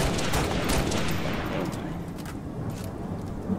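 Sniper rifle fire in Halo Reach, dense booming gunfire with sharp cracks layered over a continuous rumbling battle din, loud and close throughout.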